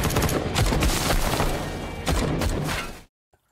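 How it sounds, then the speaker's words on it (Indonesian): A dense burst of rapid gunfire rains down from atop a building in a film scene, loud and continuous for about three seconds before cutting abruptly to silence, with one faint late shot. "Sesaat sesudah ditukar, Hao dan istrinya pun ditembaki dari atas gedung."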